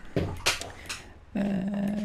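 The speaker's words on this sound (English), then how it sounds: "Such a noisy dog." Dog in the video game Farming Simulator 22, a few short sharp barks followed by a sustained whining growl, moderately close and alone.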